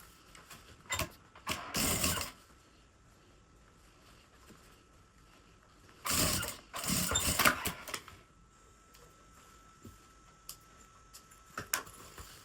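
A sewing machine runs a straight seam on a bias-bound toiletry box, sounding as two short bursts of quiet rapid stitching chatter, one near two seconds and a longer one around six to eight seconds, with quiet pauses between.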